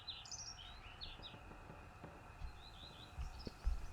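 Bird calls in a birdwatching video game: short high chirps and twittering phrases repeating over a faint background hum, with a few low soft thumps near the end.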